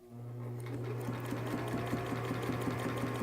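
Sewing machine stitching through a fabric courage cap (doo-rag), running steadily with a continuous motor hum and fast rhythmic needle clatter, close and alone.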